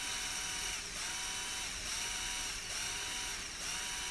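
A cheap cordless drill bores into thick steel, a continuous high whining grind with slight periodic dips as the bit bites, fairly faint and steady, with no talking.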